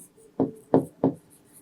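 Writing on a board during a maths lesson, heard as three short, crisp strokes about a third of a second apart, close and fairly loud, with no talking.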